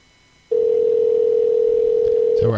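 After a brief quiet moment, a loud, steady telephone dial tone comes in and holds while a cell phone is called for a live show, ending with a faint rustle.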